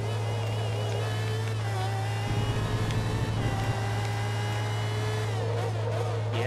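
Race car engine in the video game Forza Motorsport 2, an in-car view of a Le Mans car on track: a steady loud droning engine tone with a low hum throughout, rising briefly in the middle as the car accelerates, no talk.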